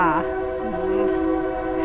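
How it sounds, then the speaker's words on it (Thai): A train horn sounds in long sustained tones over the low rumble of a passing train near a house by the tracks, fairly close and steady throughout. "เสียงรถไฟเด้อทุกคน"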